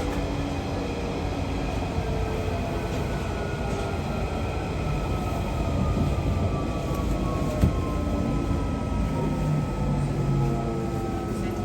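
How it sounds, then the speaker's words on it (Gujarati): An underground metro train runs through a tunnel with a loud, steady, dense rumble and roar that holds without a break, and no one speaks. "આ બધા સ્ટેશનો અંડરગ્રાઉન્ડ છે."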